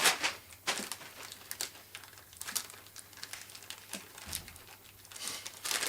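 A plastic zip-lock bag crinkles in short, irregular bursts as it is handled while unboxing an Anthem MRX-SLM slimline theatre receiver. The rustling is close and fairly quiet, with no talking.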